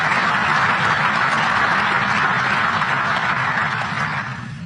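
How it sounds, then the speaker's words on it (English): Conference audience applause after a speech, a broad sustained wash of many hands clapping that stays even and then starts to fade near the end. "I hope that's not the last bit of applause that I get"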